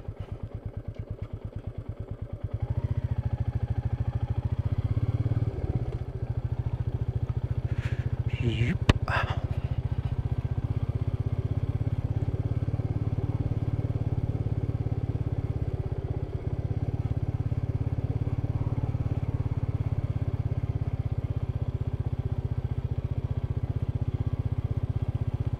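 A Royal Enfield Meteor 350 rides off-road on a remote rough track, its single-cylinder engine a steady low rumble throughout, with a few clattering knocks near the start.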